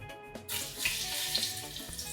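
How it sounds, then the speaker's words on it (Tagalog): Banana pieces hitting hot oil set off a continuous hiss of frying that stays fairly steady for a couple of seconds, preceded by a brief quiet moment. "Prito na natin itong saging."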